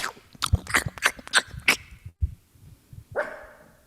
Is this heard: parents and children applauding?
no